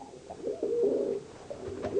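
Pigeons in a loft coo softly and repeatedly, several overlapping throaty calls at moderate distance, rising and falling in a continuous burbling murmur with no voices.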